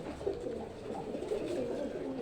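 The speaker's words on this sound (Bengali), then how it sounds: "এখানে অসংখ্য গিরিবাজ কবুতর রয়েছে" Soft, low cooing of many Giribaj pigeons overlapping in a steady murmur, fairly close, with no talking.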